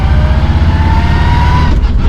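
A loud 1955 Chevy engine drones while driving, with a thin rising whine from its NASCAR transmission sliding upward above the low rumble.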